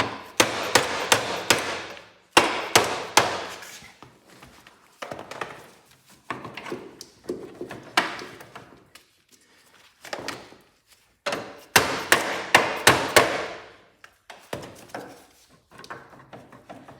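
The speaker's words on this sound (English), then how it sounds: "Give it a little ball peen hammer and see if we can knock it out." Ball peen hammer striking a Cub Cadet Cyclops Ross steering box to knock it out, sharp metallic blows in quick bursts of several hits with short pauses between them, loud and close, no talking.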